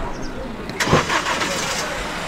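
A car engine cranks and catches near the middle, settling into a running idle, with people talking over it.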